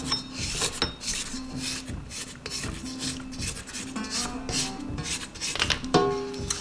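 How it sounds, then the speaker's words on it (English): A scraper rubs and scrapes around the sides of a bowl of rosemary and Kalamata olive artisan bread dough, close and steady with repeated short strokes and small clinks against the bowl. "I'm just going to help it along a little bit by scraping the sides down."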